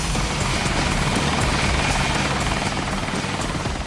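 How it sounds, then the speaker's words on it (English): Military Lynx helicopter with twin Rolls-Royce engines, a loud, steady rotor roar and turbine whine that holds at constant strength from start to finish. "The Lynx helicopter has often been described, certainly before the arrival of Apache, as the Ferrari of the military helicopter fleet in the UK."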